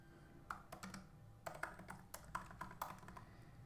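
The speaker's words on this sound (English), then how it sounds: "I would type this command." Someone typing a command on a computer keyboard, a quick irregular series of soft key clicks and taps, close and quiet, with no talking.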